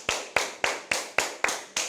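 Seven sharp hand claps at an even, steady beat, close and clear with no talk over them, part of a simple clapping game with a song taught in a caregiver and cooperative member training session.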